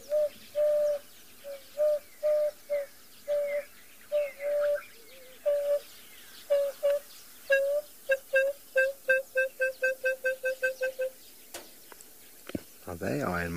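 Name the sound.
bird calling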